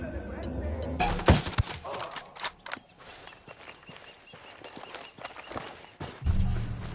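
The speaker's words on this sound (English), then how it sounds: "Ready to fire. I'm opening fire." Bursts of gunfire in Ghost Recon Wildlands, a loud cluster of sharp shots near the start, scattered fainter reports through the middle and another heavy burst at the end.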